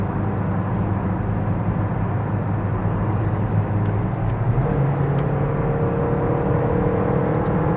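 Car engine climbing a long straight uphill gradient at full speed, a steady loud drone with a shift in pitch partway through, continuous with no talk.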